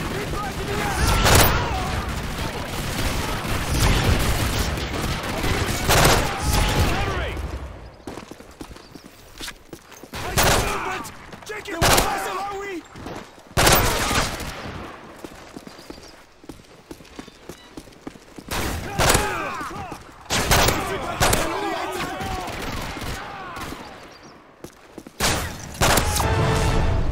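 Video game gunfire in a survival shooter, with repeated bursts of loud shots and booms layered throughout, while voices and radio callouts speak over the constant combat noise.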